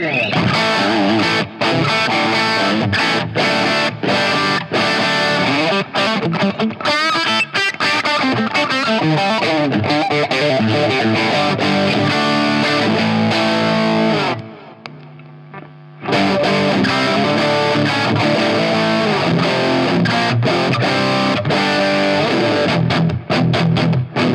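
Electric guitar played through the blue side of a Protein overdrive pedal into a guitar amp, a long run of loud, distorted riffs and sustained chords, broken once by a brief near-silent pause before the playing resumes.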